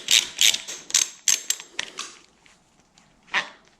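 Close, dry clicking and ratcheting of a tool turning a 4mm Allen head screw on the throttle assembly of a Pedego Element e-bike handlebar, in several short bursts that fade to faint ticks.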